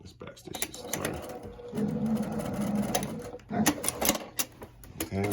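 A sewing machine backstitches a quilt nearby, stitching in a steady mechanical run, pausing, then starting again in short rattling bursts, with faint talk at points.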